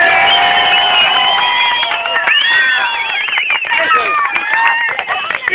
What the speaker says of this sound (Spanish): Ese es el aplauso del teatro.